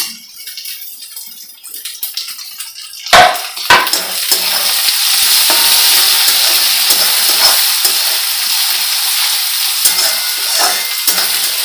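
Onions browned lightly in a pan with tomato added, for a dried-fish chutney, fry with a steady loud sizzle and hiss after a quieter start and a couple of sharp stirring knocks around the third second.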